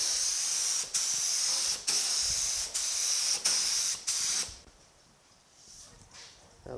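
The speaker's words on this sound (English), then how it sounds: "start spraying some primer and get this thing done for the day" Spray gun laying primer over body filler on a 1950 Chevy truck: five loud, steady hissing bursts separated by brief pauses, close up, then the spraying stops and only faint room noise remains.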